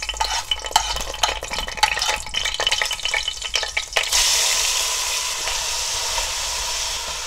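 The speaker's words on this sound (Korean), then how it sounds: "들기름을 부어? 조금 부어줘. 이게 바글바글 끓어 이제 넣어야지." Perilla oil bubbles and sizzles loudly in a pot, first with clattering stirring and scraping, then settling into a steady, continuous frying hiss.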